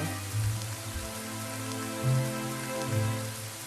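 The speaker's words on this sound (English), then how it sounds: "Ow, it's suddenly raining." Steady patter of rain falls across a scene in the video game Silver Creek Falls, a dense, even hiss with low tonal hum beneath, moderately loud and continuous, with no voices.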